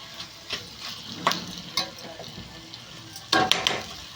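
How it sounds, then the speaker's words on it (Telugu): Bitter gourd masala frying in a pan as a spoon stirs it, scraping and tapping in irregular strokes over a soft sizzle, with a louder cluster of clanks toward the end. "ఇలా ఫ్రై చేసుకోవాలండి"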